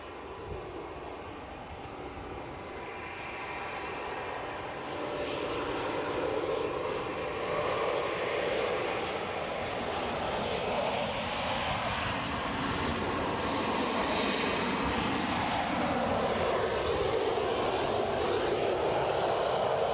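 An Air France Hop airliner passes over scenic Edinburgh, Scotland, a broad steady jet roar that builds slightly and holds loud for twenty seconds, with a slowly shifting whine.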